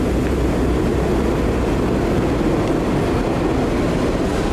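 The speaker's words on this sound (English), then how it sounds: "It always sounds like there's a train arriving" A busy New York subway station on the 2 and 3 line with a loud, continuous, low rumbling roar, like a train arriving or running nearby, steady and unbroken throughout.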